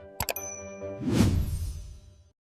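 A couple of quick bright notification-bell chimes ring out, followed by a soft whoosh that fades away.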